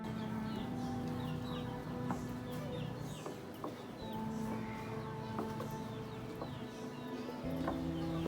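Chickens cluck and birds chirp outdoors along a walk to school, scattered calls heard at a distance over a steady, faint background murmur.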